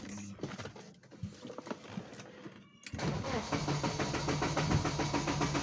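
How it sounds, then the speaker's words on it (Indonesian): A BMW E36 with the M43 engine is cranked for a long stretch, the starter whirring and chugging unevenly before the engine catches and settles into a steady, loud, close running note. "Sekarang kita mau hidupin mobilnya."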